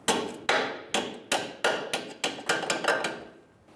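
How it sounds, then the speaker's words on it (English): About nine sharp small-hammer taps on metal, driving a link out of the control arm of a 2003-2011 Honda Element, at a steady, slightly quickening pace, close and clear, each ringing briefly before the next strike. "take a small hammer and just push that link out of the control arm"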